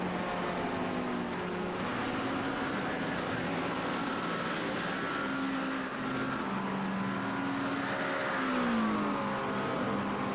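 Race cars lapping The Bend Motorsport Park during an endurance series event, a steady distant engine drone with rising and falling pitch sweeps as cars pass down the straight.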